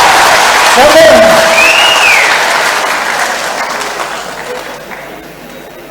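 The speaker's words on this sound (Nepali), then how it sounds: "एकपल्ट ताली बजाउनुहोस् न" Crowd applause at a political speech in Nepal, a dense continuous clapping that starts loud and gradually fades away, with a voice speaking briefly at the start.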